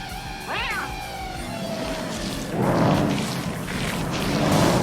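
Cat meowing in a scene from the film Sleepwalkers: a rising, wavering meow near the start, followed by a thin sustained tone and swelling whooshing effects amid an ambient movie soundtrack.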